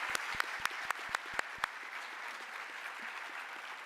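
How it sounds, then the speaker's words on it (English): Applause from a forum audience after a science panel discussion, a burst of sharp clapping over the first couple of seconds that thins out into a low, steady crowd murmur. "A big round of applause for our panelists."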